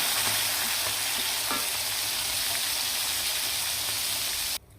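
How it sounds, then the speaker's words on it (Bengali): Rohu fish frying in oil, a loud dense sizzle close to the pan that holds steady for several seconds with a few crackles, then abruptly drops away. "মাছগুলো উঠিয়ে নিলাম, ভাজা হয়ে গেছে"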